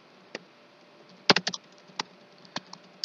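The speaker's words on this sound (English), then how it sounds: "it's as simple as typing in your username" Scattered keystrokes on a computer keyboard while entering a username to create an account, a few isolated taps followed by a quick cluster of clicks and then spaced single presses, close and clear with no talking.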